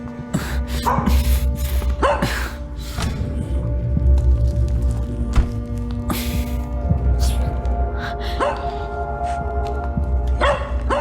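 A small dog barks in short, sharp yips several times over a steady background hum, the barks fairly close and loud.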